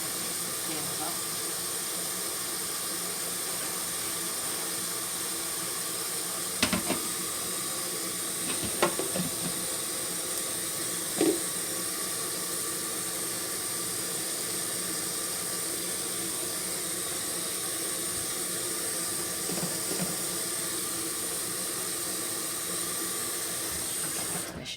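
Tap water runs steadily into a kitchen sink to wash spinach for a pasta salad, a soft continuous hiss with a few faint clinks and handling noises over it.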